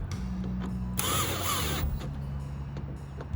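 Power tool driving Torx bolts into a car door actuator on a 2013 Honda Accord: one short, loud burst of whirring motor with a steady hum, close by and with no talk.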